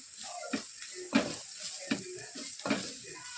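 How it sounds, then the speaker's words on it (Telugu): A spoon scrapes and stirs egg rice masala in a pan, several distinct strokes about every half second over a soft sizzle, with a voice speaking briefly. "మళ్ళీ ఒకసారి మంచిగా కలుపుకోవాలి."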